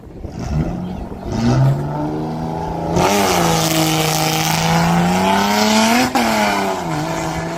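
A Honda drag racing car launches at a dragway, its engine revving loud and close with rising pitch sweeps and a brief shift break, holding a sustained roar throughout.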